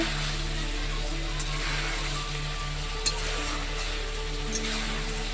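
Chicken pieces slowly sautéed over medium heat in a pan for a Gandharaj chicken dish, giving a steady, even sizzle and frying hiss that carries on throughout with no voices.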